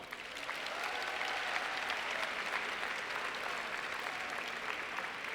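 A crowd at a 2014 high school graduation ceremony gives a sustained round of applause, a dense, even wash of clapping that swells in quickly and holds steady throughout.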